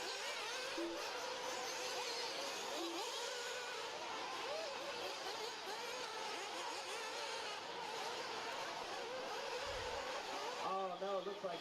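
Nitro RC buggies rolling around a dirt track in a Friday qualifying race at the Dirt Nitro Challenge, with a steady buzzing drone of small engines throughout and a race announcer talking over it.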